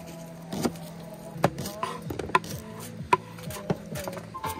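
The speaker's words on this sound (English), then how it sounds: "So we're chopping up the grouse here, turning it into little bits" Grouse being chopped into small bits outdoors at an October hunting camp in British Columbia, heard as sharp, irregular knife strikes on a board, close and fairly loud with short pauses between them.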